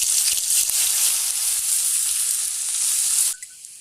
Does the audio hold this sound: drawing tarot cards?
no